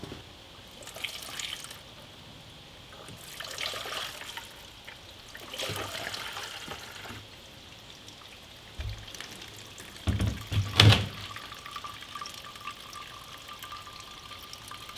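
Fresh fuel poured into the tank of a garage-find Honda CT70, trickling and splashing unevenly over about fifteen seconds, with a louder, sharper burst of liquid near the end and no talk.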